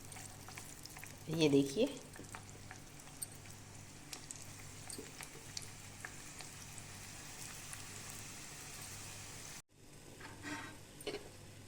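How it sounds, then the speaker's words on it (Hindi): Layered papdi deep frying in oil on a medium-low flame, a soft, steady bubbling crackle close by, with a brief louder burst early on and someone speaking briefly near the end. "अब हम इसे मीडियम टू लो फ्लेम पर डीप फ्राई करेंगे"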